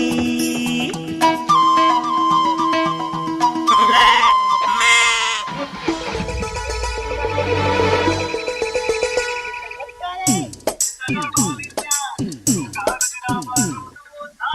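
Lambs bleat in short wavering cries mixed into a bright, busy stretch of music, the calls coming in bursts near the end between tonal passages.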